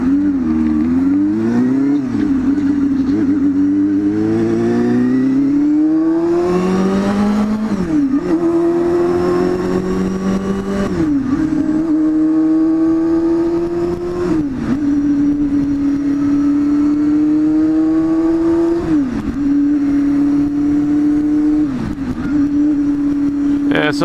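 A motorcycle engine under way while riding, droning steadily and loudly with rising and falling pitch as it revs up through gears and briefly drops between shifts, heard close throughout.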